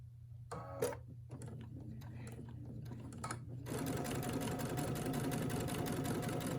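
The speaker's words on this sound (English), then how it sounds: "we'll just go ahead and begin sewing" A Brother sewing machine fitted with a 7 mm walking foot stitches a straight quilting line at a 3.0 stitch length, starting after a few clicks and handling noises, then running in a steady, close mechanical whir.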